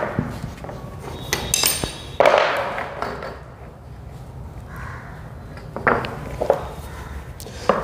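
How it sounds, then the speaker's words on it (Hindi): Several sharp hammer blows on a plywood strip while nailing, irregular and close, with small clinks and handling noise between strikes. "आप इस तरह से चोट मारेंगे प्लाई की पट्टी पर, कील पर चोट नहीं मारनी है आपको"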